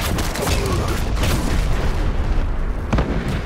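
Artillery fire-support strike in the Dirty Bomb first-person shooter, a dense rolling barrage of booms and blasts continuing steadily throughout, with a few sharper bursts standing out near the end.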